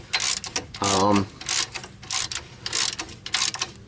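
Ratchet wrench working on a Dodge SRT4 car spindle during wheel bearing service, a string of close, loud clicking bursts with a short tonal hum partway through.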